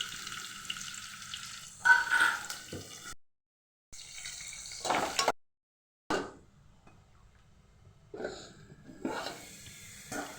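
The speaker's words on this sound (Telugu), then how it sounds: "ఆనియన్స్ వేగుతున్నాయండి." Onions frying in tempering oil with curry leaves, heard as close sizzling and stirring in uneven bursts broken by a few short silent gaps, with no talking.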